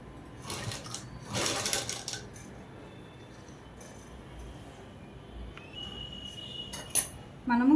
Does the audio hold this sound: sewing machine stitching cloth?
yes